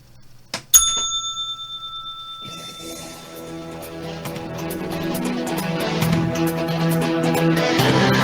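A single bright bell strike rings out clearly and sustains with a long ringing tone, then fades as music swells in beneath it and grows louder.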